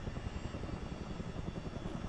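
CH-47 Chinook helicopter flying in Microsoft Flight Simulator multiplayer, a steady loud rotor thump and engine roar with fast pulsing beats, continuous and close throughout.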